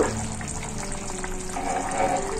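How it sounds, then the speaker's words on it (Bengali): Rice being gently stirred with a ladle in a pot for chicken pulao, a soft continuous sizzle and bubbling with light scraping, moderately close and without talking. "এই হাতা দিয়ে আলতো করে একটু নেড়ে দেব"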